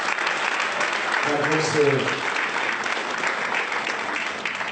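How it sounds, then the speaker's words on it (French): Steady applause from a church congregation during a sermon, a dense clapping wash that holds throughout, while someone speaks briefly over it. "On acclame pour Rémi Pélagie."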